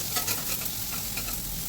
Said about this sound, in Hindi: अब मैं उसमें डाल रही हूँ तेल और लहसुन और रेड वाली मिर्चा, प्याज, ये सब डालकर उसको मैं छौंक लूँगी।